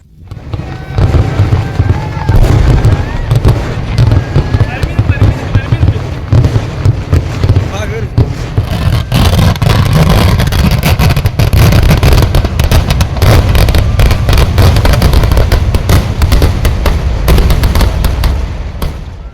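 Daytime fireworks crackle and boom at the Kavassery Pooram temple festival, with dense, continuous loud bursts and rapid pops over a steady rumble, while crowd noise and a voice are heard beneath.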